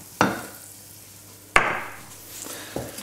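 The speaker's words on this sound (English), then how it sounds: "get the oil on the flour, and you just want to cook that flour off a little bit" Flour stirred and cooked in hot oil in a pan for a Mediterranean cod and clam stew, with two sharp scraping stir strokes each followed by a soft sizzle, then quieter stirring near the end.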